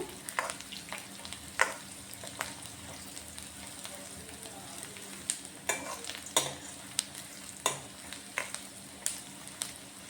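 Onions fry quietly in a pan for spinach and drumstick-leaf upma, a soft steady sizzle broken by scattered sharp clicks of a spoon stirring against the pan.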